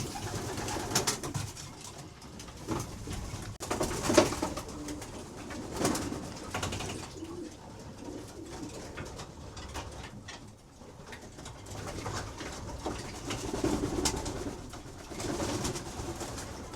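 Young pigeons bathing in a loft give soft, repeated throaty coos, close and fairly quiet, over gentle splashing and flutter.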